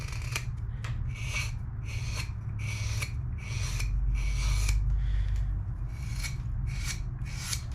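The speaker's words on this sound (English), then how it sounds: "there's a certain sound that a blade makes that when you get it sharp, it's a pleasure to carve with" A sharp pocket knife blade whittles and carves wood in a series of roughly a dozen quick, close scraping strokes, each a crisp rasping shave with brief pauses between, heard alone without talking.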